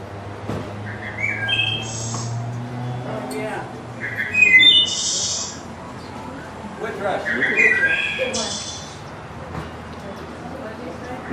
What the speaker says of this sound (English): Indeed, the wood thrush.